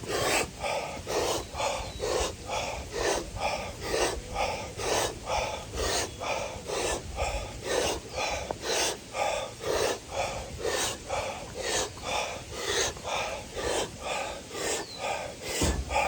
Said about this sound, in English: I do 20 breaths and then I'm going to hold my breath.